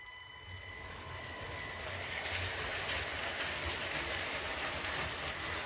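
A Lego Powered Up toy train runs along its track with a steady rolling rumble and light clicking from the wheels, holding an even level with no talking.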